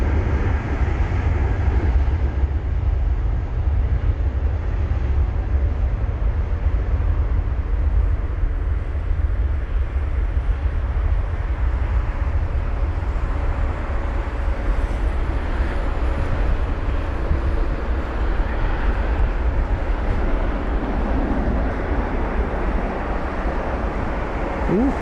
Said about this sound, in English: Like the A319 with a throttle, you can hear it.